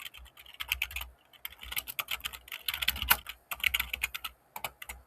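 Code is typed on a computer keyboard in quick, irregular bursts of crisp key clicks with short pauses between runs, close and fairly quiet.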